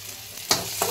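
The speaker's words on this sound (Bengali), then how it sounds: "পেঁয়াজটাকে ভালো করে লাল লাল করে ভেজে নিতে হবে।" Chopped onions fry in a pan for Maggi masala, with a brief close sizzle and a quick stirring scrape over a steady hiss.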